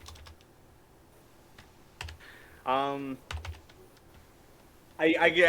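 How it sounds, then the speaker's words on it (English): Computer keyboard typing during an online tabletop role-playing session: a short, close burst of rapid key clicks near the end, after one brief spoken word and a few soft knocks. "I'm gonna type in chat."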